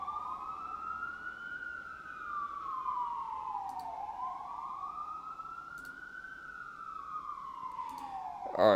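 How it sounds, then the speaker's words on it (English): A wailing siren rises and falls in long slow sweeps, steady and fairly loud throughout, with a brief louder burst of noise at the very end. "Lots of sirens today, too, huh?"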